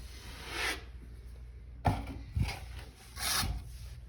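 A putty knife feathers joint compound over a drywall patch, making several close, gritty scraping strokes separated by short pauses, with no talking.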